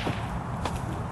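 Overhead whip crack breaking a target: a single sharp snap near the middle of a short stretch, loud and close over a steady outdoor background.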